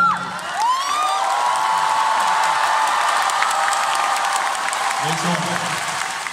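Loud, sustained applause with cheering and whoops from a large crowd at a concert in London, steady throughout, with a brief voice over it near the end.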